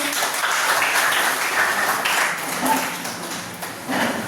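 A classroom audience gives a round of applause: a dense patter of many hands clapping close by, steady for about two seconds, then thinning and rising again briefly near the end.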